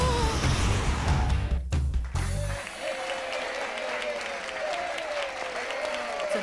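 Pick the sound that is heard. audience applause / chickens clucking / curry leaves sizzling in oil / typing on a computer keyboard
audience applause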